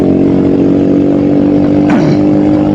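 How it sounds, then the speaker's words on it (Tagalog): A motorcycle engine with a clogged fuel line runs loud and close, sputtering and struggling for power, with a brief pop or backfire burst about two-thirds of the way through. "Walang lakas yung motor ko, oh. Oo, pumutok-putok."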